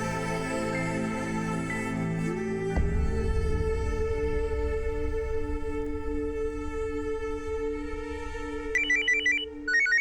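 A phone rings with a sustained electronic tone over background music, continuing for several seconds before a brief chirping melody near the end.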